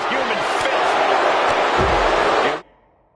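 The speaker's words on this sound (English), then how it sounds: "do you hear this capacity crowd?" Dense arena crowd roar in the wrestling video game WWE 2K25, a steady wall of cheering with a few thuds beneath, loud and continuous before cutting off abruptly near the end.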